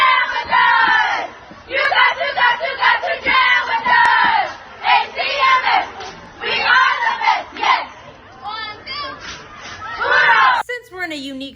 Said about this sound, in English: Let me hear the crowd.